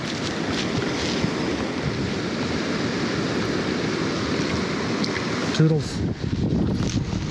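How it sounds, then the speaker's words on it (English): Steady wind gusting across the Owens River Gorge, a broad continuous rush close to the microphone with buffeting rumble, joined near the end by a brief spoken word. "the wind's starting to come up"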